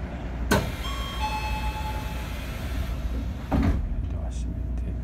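An Odakyu 3000 series commuter train's doors slide shut with two thuds a few seconds apart over the steady rumble of the idling train, with faint chimes and a voice speaking.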